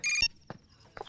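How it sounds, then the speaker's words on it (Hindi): A short electronic phone ring tone trills briefly at the start, followed by a couple of soft thuds or movements in an otherwise quiet room. "फोन बजा, फोन।"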